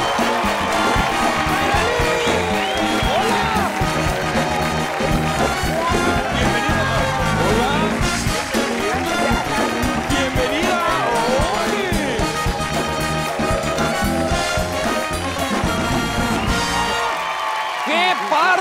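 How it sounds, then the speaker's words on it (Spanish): Studio audience on a late-night TV talk show applauds and cheers to welcome two guests, a loud sustained wash of clapping and whoops mixed with music and voices, ending abruptly near the end. "demos un fuerte aplauso para recibir a Naidelina Barrete y Ariadna Muro."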